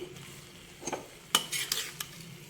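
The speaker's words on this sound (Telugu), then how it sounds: "చక్కగా ఇదంతా శుభ్రంగా చక్కగా కలుపుకోవాలి" A spoon scrapes and stirs through a rice mixture for vaakkaya pulihora (tamarind rice with karonda berries) in a pan, a few sharp clinks and scrapes over a faint sizzle.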